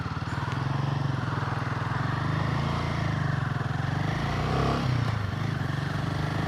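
A Royal Enfield Himalayan 450 motorcycle rides along on a soggy summer Sunday, its engine a steady, loud, throbbing drone with constant wind and road noise and a brief rise in pitch near the end.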